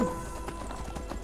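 Horse hooves clop at a quick, brisk rhythm in the video game Skyrim, several faint close strikes over a brief moment with no talking.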